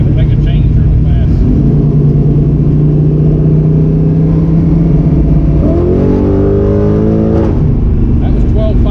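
V8 car on a Holley EFI Terminator X tuning run, engine droning loudly at steady revs before being floored and climbing hard, recorded close from inside the car.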